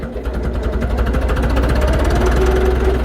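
A loaded tractor's four-cylinder engine labours in top gear, a steady, loud, rumbling drone with a continuous vibrating throb.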